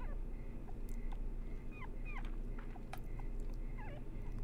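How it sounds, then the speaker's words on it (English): Dog barking inside the PS2 survival horror game Rule of Rose, heard as several short, faint yips and whimpering calls scattered over a steady low background drone, with no talking. "she heard a dog's bark"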